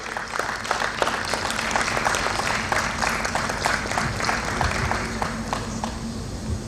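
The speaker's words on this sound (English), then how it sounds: "ask you to clap for them" Audience applause at a creative industries symposium, steady dense clapping from a seated crowd that carries on throughout.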